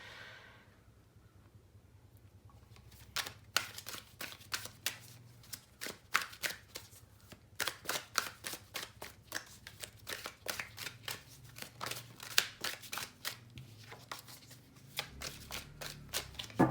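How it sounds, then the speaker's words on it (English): A Universal Rider-Waite tarot deck being shuffled by hand, close and fairly quiet, with repeated bursts of riffling card flicks in an irregular rhythm after a brief quiet start, no speech. "I am using the Universal Rider-Waite deck, and I'm going to shuffle"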